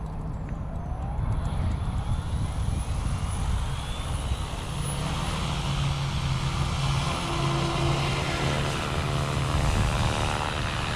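OMP Hobby M4 and Goosky RS4 Venom RC helicopters spool up on the bench, giving a continuous electric motor whine and rotor drone that holds steady and close throughout.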